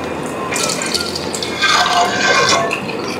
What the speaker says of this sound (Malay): first sekali kita perlu masukkan santan